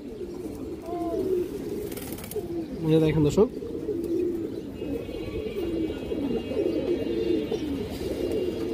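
Large silver Bagan male pigeons coo in low repeated rumbles, close by, with someone talking over them throughout.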